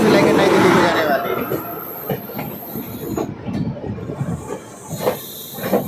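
Magadh Express, running from Islampur to New Delhi, passes on the opposite track near Pandit Deen Dayal Upadhyaya Junction: a steady rumble with hiss and rhythmic wheel clatter, fairly close and loud at first, then easing.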